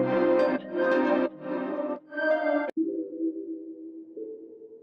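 A reggaeton melody loop from the Dreams sample pack plays alone: a few blocky, sustained synth chords step through a short phrase, then settle into softer held tones.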